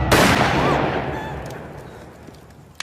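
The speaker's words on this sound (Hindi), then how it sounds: "शहरी ने गोली चलाई" A single loud gunshot in a Pakistani film scene, a sharp blast at the start followed by a long rolling echo that slowly fades.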